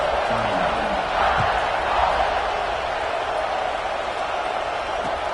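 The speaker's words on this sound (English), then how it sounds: "this crowd is buzzing after that last score" Football stadium crowd at an Iowa vs Alabama game buzzing after a score, a dense, steady roar of many voices with brief whoops and a slight swell around the second mark, fairly loud and continuous.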